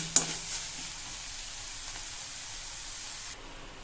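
Onions with turmeric, chili powder and salt sizzle and are stirred in a hot pan for mushroom masala, a brief scrape at the start, then steady frying hiss that drops off near the end.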